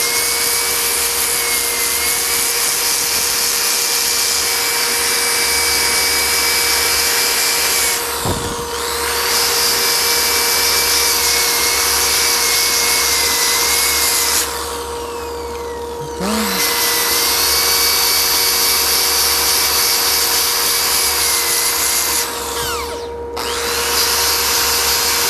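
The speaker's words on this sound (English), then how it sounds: "you want to keep the pad moving, otherwise it'll heat up the wood, you might get a crack" A power sander's pad working across wood gives a loud, steady mechanical drone that runs without a break, with a few short pauses where the tool eases off or is lifted.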